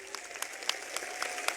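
Applause from a crowd at a Hindi political rally in Bhadra, a brief burst of faint, scattered clapping heard from a distance.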